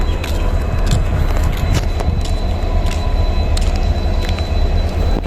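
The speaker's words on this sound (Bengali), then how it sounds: "ট্রেন কিন্তু সঙ্গে সঙ্গে ছেড়েও দিল ডানকুনি স্টেশন থেকে" A suburban local train pulls out of Dankuni station, a steady loud low rumble of wheels and carriages with faint rattles and squeaks running unbroken throughout.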